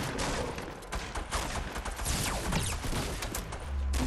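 Dense, continuous gunfire in a Fortnite Battle Royale match, with rapid shots blending into a loud, unbroken barrage from start to finish.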